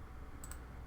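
A computer mouse clicks once or twice in quick succession while drafting in AutoCAD, a soft, brief double tick over a steady low hum.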